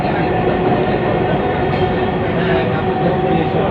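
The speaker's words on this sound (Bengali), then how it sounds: "ট্রেনটা মাত্র মানে চলা শুরু করছে।" Dhaka metro rail train pulling away from a station, a loud steady rumble and rolling wheel noise heard from inside the carriage.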